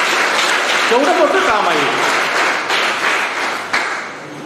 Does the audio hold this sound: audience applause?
yes